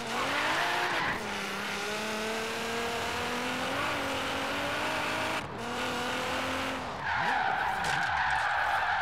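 Car drifting in the video game Forza Horizon 3: a loud sustained tire skid with a high engine whine that rises and falls through long slides, briefly breaking off before squealing again.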